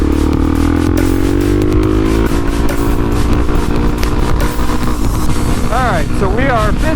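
A Suzuki DRZ400 motorcycle engine droning steadily near red line in fifth gear at highway speed, loud continuous roar with wind rush, a person speaking over it toward the end.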